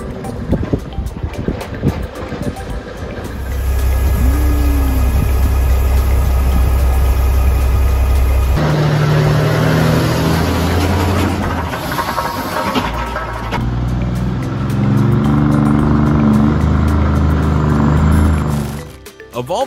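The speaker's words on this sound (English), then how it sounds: "A Volvo truck is seen transporting large logs. With two rows of stacked logs, the truck moves slowly along a wet and muddy road." A Volvo logging truck loaded with two rows of stacked logs moves slowly along a wet, muddy road. A low, rumbling engine drone is mixed with wind buffeting the microphone, and the tone changes partway through.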